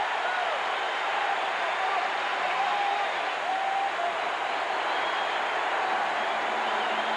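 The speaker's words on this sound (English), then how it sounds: "listen to the cheer from the UCLA Rooters" Crowd of UCLA fans cheering at a 1990 USC vs UCLA college football game, a steady, dense roar of cheering and applause that fills the stadium without a break, with no clear speech over it.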